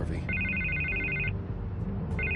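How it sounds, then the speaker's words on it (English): A telephone rings in the Batman Telltale video game, a repeated electronic double-tone ring sounding in two bursts over a low background hum. "I can't get the phone to stop ringing."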